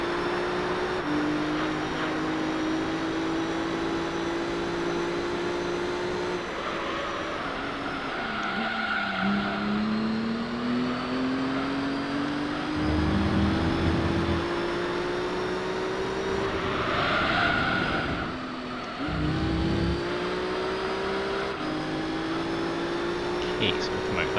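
A Subaru Impreza race car in Gran Turismo 3 roars through a race, its engine note rising and falling through the gears with tire squeal in the corners, while someone talks over the game sound throughout.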